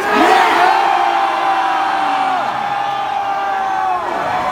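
Concert crowd at a show cheering, whooping and shouting in a loud, sustained roar that swells at first, then holds and tapers slightly, heard without talk.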